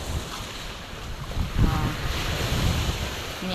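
Sea waves at high tide along the shore of a beach resort, a steady broad wash of surf with wind noise on the microphone, swelling midway, and a single brief spoken word over it.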